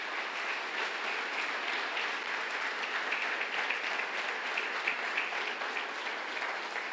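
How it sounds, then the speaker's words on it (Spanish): A church congregation applauds during an evangelical sermon, a steady wash of many hands clapping at an even level throughout, somewhat distant and reverberant. "Denle un aplauso a Dios"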